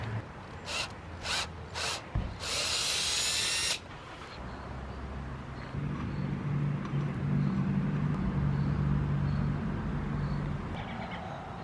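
A power drill drives a Speed-Out bolt extractor on a mountain bike crank in short bursts, then runs in one longer high-pitched whine that stops abruptly, followed by quieter mechanical rattling and a low hum.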